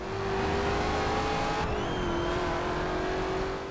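Upgraded 2015 Ford Mustang GT engine in the Forza Horizon 2 racing game, a continuous droning engine note that climbs and dips in pitch as the car accelerates and shifts, fairly quiet, with no voices.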